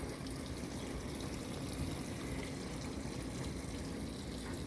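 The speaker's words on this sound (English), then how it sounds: "So it's going to fill with a lot of water." GE top-load washing machine filling on a bulky items cycle with deep fill, a steady, even rush of water pouring into the drum without a break.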